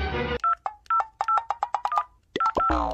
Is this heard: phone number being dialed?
yes